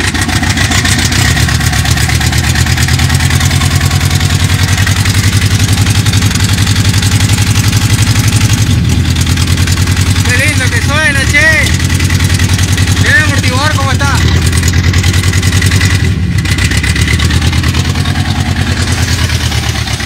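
Ford F100 pickup's V8 engine running, heard from behind near the exhaust pipe, a loud steady rumbling idle with a few brief revs, while people talk over it.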